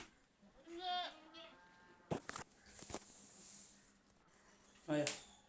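Goats on a farm with a herd of forty animals give two quavering bleats, one early and one near the end, faint against a steady noisy background with some clattering in between.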